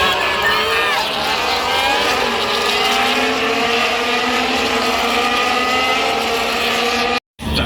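Formula 1 cars race at the Silverstone Grand Prix in 2025, a continuous loud high-pitched engine whine with rising and falling pitch heard from trackside, cut off abruptly near the end.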